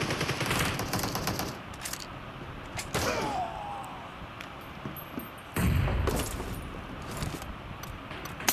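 Gunfire in PUBG Mobile team deathmatch, bursts of rapid automatic shots with sharp single cracks, loud and close, separated by short gaps.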